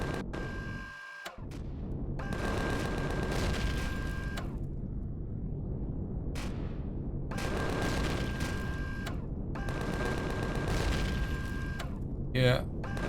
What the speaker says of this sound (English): Wow, it's a lot of sentry guns on the top here.